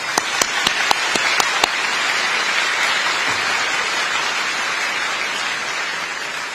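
A banquet audience applauds a Vice President-elect at a dinner gala, the clapping steady and dense throughout, with a few sharper individual claps standing out near the start.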